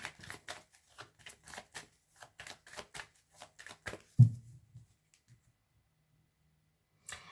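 A tarot deck being shuffled by hand, a quick series of soft riffling card flicks and taps, followed by a single louder thump as the deck is cut and then near silence.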